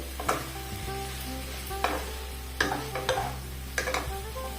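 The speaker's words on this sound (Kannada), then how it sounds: "ಇವಾಗ ನಾವಿಲ್ಲಿ ಮಾಡಿಟ್ಟುಕೊಂಡ ನೂಡಲ್ಸನ್ನು ಇದಕ್ಕೆ ಹಾಕಿಕೊಳ್ಳ ಚೆನ್ನಾಗಿ ಮಿಕ್ಸ್ ಮಾಡಿದರೆ ಆಯಿತು" Wheat flour noodles stirred in a hot pan, sizzling steadily with repeated spatula scrapes and clinks against the metal, alongside a low constant hum, no talking.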